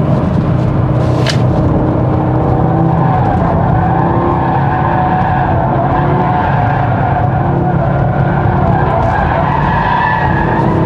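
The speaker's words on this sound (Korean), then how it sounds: "크게 별다른 테크닉 없이도 드리프트 비슷한 모션이 나오네요" A 2024 Audi RS 3 with all-wheel drive slides in a drift-like motion, its tires squealing and skidding loudly and continuously over a steady engine roar, close and with no voices.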